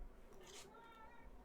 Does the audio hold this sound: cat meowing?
yes